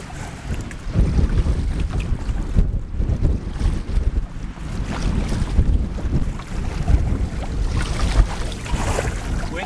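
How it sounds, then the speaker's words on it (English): Wind picks up on a lake during a solo ice-out trip, gusting steadily against the microphone with rumbling buffeting and a wash of water and waves beneath. "Wind's starting to pick up now."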